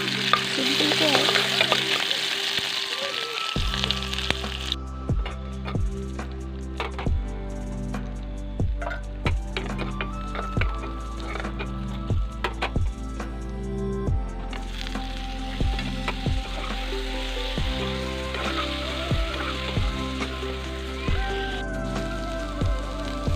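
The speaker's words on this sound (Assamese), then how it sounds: "এইফালে বনাই ল'ম ভাজিখিনি" Local leafy greens fry in a pan, giving a loud, continuous sizzle punctuated by regular scraping stirs, with background music playing throughout.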